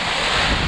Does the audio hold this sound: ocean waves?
yes